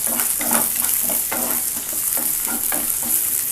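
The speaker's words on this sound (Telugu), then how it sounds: "పచ్చిమిర్చిలో వేసి కొంచెం ఫ్రై అవ్వాలి." Green chilies fry in hot oil in a pan, a steady loud sizzle broken by repeated scraping stirs at a regular rhythm, close up with no voices.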